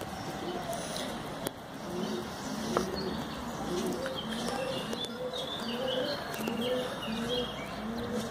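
Pigeons coo at a new pigeon loft under construction, with repeated soft low coos running steadily through the clip over a constant background hiss and some faint chirps.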